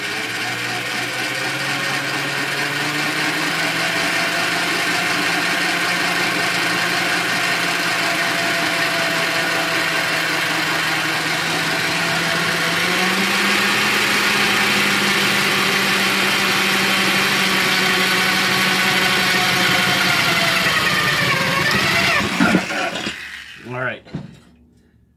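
Drill boring a hole at a center-punched mark on a crankcase part: a long, steady motor whine held close and loud, easing off near the end, with no talk.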